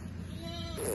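A ewe bleats softly and close by during a lamb delivery on a farm. It is one short wavering call, under a second long.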